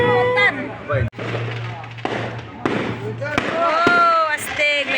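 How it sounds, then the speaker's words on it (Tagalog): Fireworks and firecrackers going off on New Year's Eve, a series of sharp cracks and pops at irregular intervals, some near and some farther off, mixed with excited voices and talk throughout. "Oh, astig! May fireworks sila!"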